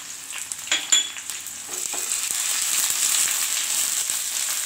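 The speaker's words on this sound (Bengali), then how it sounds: "রসুনটাকে একটু ভাজবো" Chopped garlic fries in a pan with a steady, close hiss, while a spoon scrapes and clinks against the metal through the first part.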